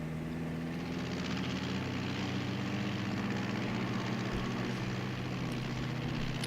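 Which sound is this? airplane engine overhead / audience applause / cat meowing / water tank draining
airplane engine overhead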